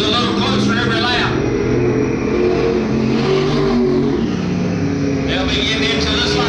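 Vintage late model sportsman race cars roar around the track, engines loud and close as they accelerate, with pitch rising and falling across the pass while an announcer talks over the noise.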